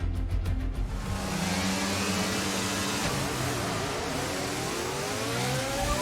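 Formula 1 cars in the F1 22 video game at a race start, engines revving high and roaring off the grid together in a loud dense wall of sound, rising and shifting pitch throughout.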